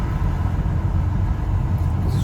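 Cars pass on a road in a low, steady rumble of engines and tires that stays close and fairly loud throughout.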